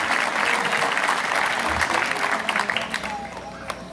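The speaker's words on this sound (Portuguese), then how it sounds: "Pode aplaudir." Sustained applause from a congregation at a Catholic mass, dense and steady clapping throughout, with a few voices briefly audible in the crowd.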